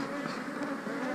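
Honey bees buzz steadily and loudly around an open nuc hive during an inspection, a continuous close droning hum with no pauses.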